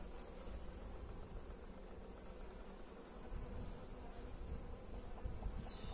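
Honey bees hum densely around an opened hive at a spring inspection after wintering, a steady close buzz that carries without pause and swells slightly toward the end.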